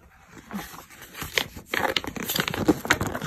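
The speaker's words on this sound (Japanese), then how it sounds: "こんな風に、ペラペラっとね、ちょっとめくってみますね" Pages of a mook book bundled with a CHUMS tote bag and lantern, flipped quickly with papery crinkling and rustling that grows busier and louder toward the end, close up with no speech.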